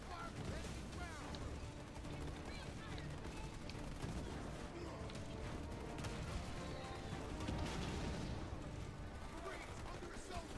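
Dense, continuous battle gunfire rattles against marines in Halo Wars 2, a steady crackling din that persists throughout with no pauses, mixed with other game effects and a voice.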